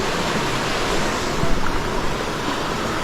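Natural spring water flows at a river camp, a continuous close rushing wash with no speech.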